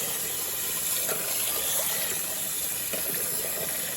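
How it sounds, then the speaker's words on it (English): Cold tap water runs steadily into a cooking pot of rice being rinsed, a continuous close splashing gush with no talking. "Rinse it out with some cold water."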